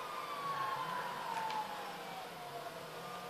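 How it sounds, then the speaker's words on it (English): A distant ambulance siren wails in a slow, falling tone, faint against a steady low hum of ambience in the video game mod LSPDFR. "I can hear an ambulance."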